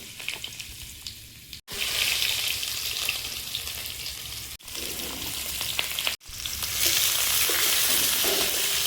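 Panch phoron, the Bengali five-spice mix, crackles and sizzles loudly in hot oil for a fish curry, with steady frying broken by a few brief gaps and stirring scrapes.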